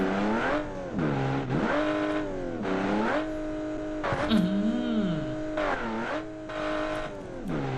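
In BeamNG.drive, a car with a flat front tyre strains to accelerate, its engine rising in repeated revving surges that drop back between bursts, with a brief squeal midway and a voice talking faintly underneath.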